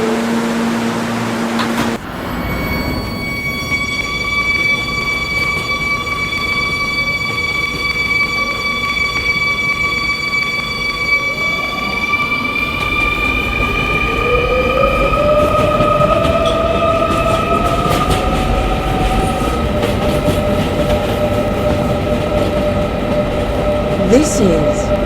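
An R220 subway car on the 11 local rides along with a loud, steady rumble, high whining motor tones rising and sliding in pitch as it accelerates, and occasional rattles and clanks close by.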